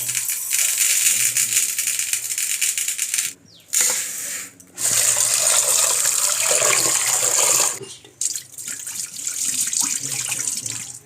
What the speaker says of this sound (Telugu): ఇప్పుడు గ్లాస్ కందిపప్పు శుభ్రంగా కడుక్కోవాలి